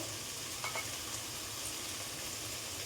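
Paneer and potato fry in a pan over low to medium heat, making a soft, even sizzle with a brief scrape of stirring partway through.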